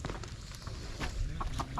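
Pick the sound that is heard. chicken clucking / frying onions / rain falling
chicken clucking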